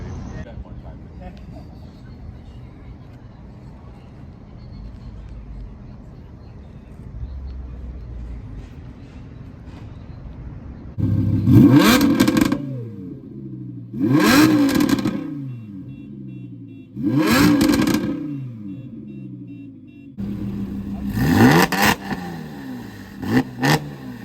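Porsche cars pull away after a quiet stretch of background chatter, with several loud, close bursts of engine revving in quick succession, each rising and falling sharply.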